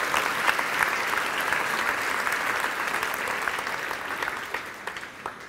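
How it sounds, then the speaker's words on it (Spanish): A church congregation gives sustained, dense applause that stays even and full throughout, with no break. "démosle un aplauso a Dios precioso y santo"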